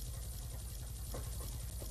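Helicopter in the Roblox game Brookhaven, its rotor whirring as a steady, loud rhythmic chop with engine drone throughout, heard on its own without talk.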